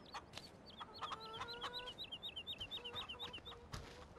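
Chickens clucking in the farming video game Farming Simulator 15, a steady string of short, chirpy calls repeating in rhythm over a faint background hum.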